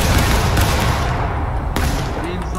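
A massed musket volley fired on command in a Civil War battle game at Dunker Church, a dense, continuous roar of gunfire rumbling throughout, loud and close.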